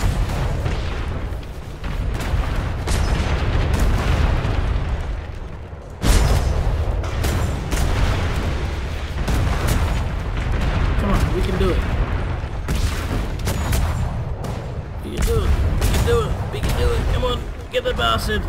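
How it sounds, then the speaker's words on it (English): Ship cannons firing in the video game Atlas, a rapid string of deep booming blasts in close succession, some overlapping, with someone speaking excitedly over the barrage. "Fire all the cannons!"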